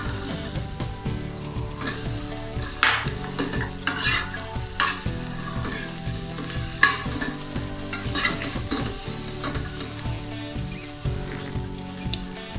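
Onion frying in a pan with a crackling sizzle, frequent spoon scrapes and clinks against the pan, and steady stirring throughout.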